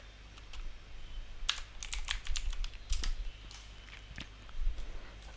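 Rapid bursts of clicking keys on a computer keyboard while code is typed, in irregular clusters with short pauses, fairly close and moderately quiet.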